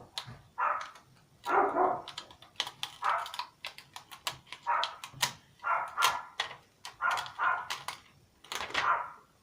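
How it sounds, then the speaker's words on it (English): Several dogs barking in a home setting, sharp repeated barks in irregular bursts of two or three, fairly close and distinct against a quiet background. "There goes the dogs."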